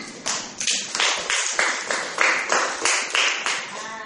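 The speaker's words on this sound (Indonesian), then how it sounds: "Ya, tepuk tangan." A class of pupils claps hands together in a series of loud, sharp, evenly spaced bursts, close by and in a steady rhythm, with no talking over it.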